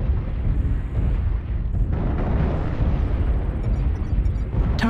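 Airstrike explosions in the video game MechWarrior Online form a continuous, loud, rolling roar of overlapping blasts and rumble, with a sharp burst near the end.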